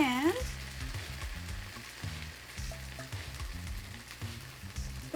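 Bread for vegan Korean street toast fries in a pan with a soft, continuous sizzle, under quiet background music and a short speaking voice at the start.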